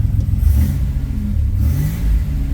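A car engine fitted with an aftermarket chip in its stock ECM revs as the gas pedal is pressed, a loud, close, low rumbling drone that rises and falls slightly.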